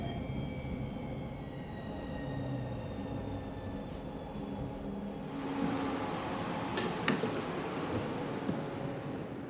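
The TramBahía tram in Cádiz, Spain rumbles along its rails with a steady low drone, a brief metallic squeal and a few clanks rising partway through.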